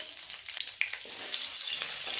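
Bay leaves, dried red chilies, cinnamon, cloves and cardamom frying in hot oil in a karahi, a faint, steady crackling sizzle with a few soft pops, close by.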